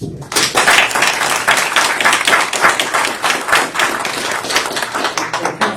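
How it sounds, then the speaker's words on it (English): A crowd at a council meeting applauds with steady, dense clapping that starts suddenly and continues for several seconds, loud and close. "we just want to take the opportunity to give you a round of applause and say thank you"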